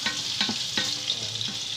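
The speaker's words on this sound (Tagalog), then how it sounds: "magigisa tayo ng sibuyas, bawang, saka luya" Onion, garlic and ginger sautéing in a pan for chicken bopis, a steady close sizzle with a few light spatula taps and scrapes in a loose rhythm.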